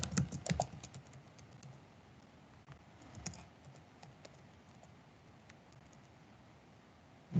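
A password is typed on a computer keyboard. A quick burst of clicky keystrokes comes first, then lighter scattered taps that thin out, close up and alone.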